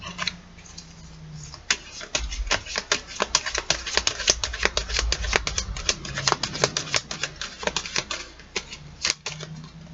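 Cards being drawn and shuffled for a tarot-style intuitive reading, a quick run of crisp, close snapping and flicking sounds in dense bursts, with a brief soft voice before the shuffling.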